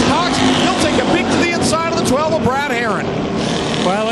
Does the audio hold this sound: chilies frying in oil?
no